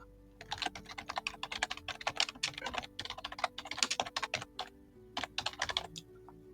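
Brisk, close-up typing on a computer keyboard, with rapid irregular bursts of key clicks and short pauses, and no talking over it.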